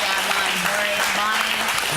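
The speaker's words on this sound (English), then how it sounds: "Ginormous round of applause and thank you for this amazing panel" An audience at a lung cancer foundation panel event breaks into dense, continuous applause, with a voice faintly audible underneath.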